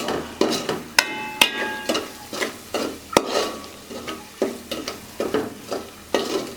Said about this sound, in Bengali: এখন আমরা কি করবো, এগুলো আবার ভাজবো।